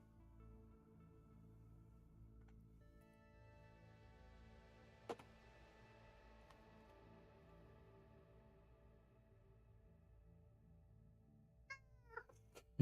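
A cat meows in a long, drawn-out cry close by in a quiet indoor room, followed by a few soft ticks and short sounds near the end.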